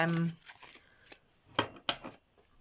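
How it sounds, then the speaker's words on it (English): A brief voice at the start, then a few quick riffling bursts of a deck of romance angel oracle cards being shuffled, close and moderately loud. "Give them a good shuffle and let's get one of these romance angel cards."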